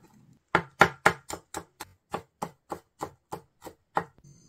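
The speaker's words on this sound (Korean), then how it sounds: "마늘은 얇게 썬 다음 채 썰어 줍니다" Kitchen knife chopping thinly sliced garlic into julienne strips on a cutting board, a quick series of about fourteen crisp, close knocks in a steady rhythm, with no talk.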